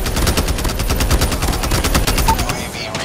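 Rapid automatic gunfire from a Call of Duty Mobile match, a dense run of fast, loud shots continuing throughout, with game sounds layered beneath.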